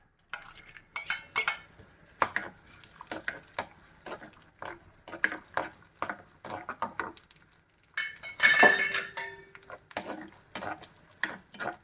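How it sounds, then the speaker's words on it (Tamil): Cashews roasting in a pan for sweet pongal, stirred with a metal spoon that makes repeated scraping clinks and rattles, with a light sizzle underneath and one louder burst of clatter partway through, with no talking. "இப்போ இந்த முந்திரி வந்து வறுக்கிறேன்."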